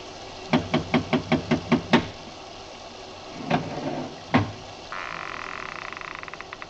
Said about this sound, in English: I lifted the bronze idol and rapped on the door with it